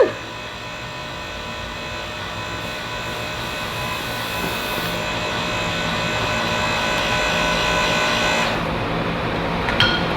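An LS V8 engine fires up for the first time and runs with a steady, loud droning rumble that holds throughout, ending with a brief clunk.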